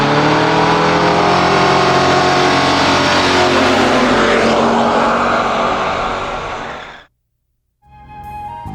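A classic Ford muscle car revs loudly nearby and pulls away, its engine roar sweeping past and fading out before a brief quiet and a faint new sound.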